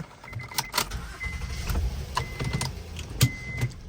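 After an oil change, a car is started up: keys jangle and click, then the engine turns over and settles into a low idle, with small mechanical knocks close by.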